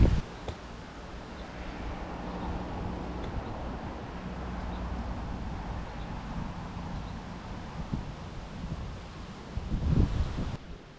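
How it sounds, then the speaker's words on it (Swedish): Steady wind buffeting a phone microphone outside a small wooden church, a continuous low rumbling roar with gusts that swell louder near the end, and no one talking. "det blåser en hel del här idag så att det kommer bara att brusa i telefonen"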